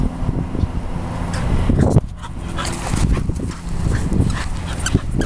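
A dog playing fetch whimpers, yips and lets out short barks in an excited, irregular run close by, while a person talks to it between the sounds.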